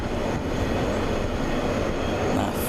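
A CSX freight train rolling past a bridge on the Trenton Subdivision, a loud, continuous rumble and clatter of wheels and cars close by, steady throughout with no voices.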